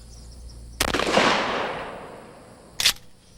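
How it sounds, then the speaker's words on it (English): Shotgun loaded with number 9 birdshot fired at a mannequin wearing soft body armor: a sharp, loud blast with a long decaying echo, then a second brief bang near the end. "We try it first with number 9 birdshot."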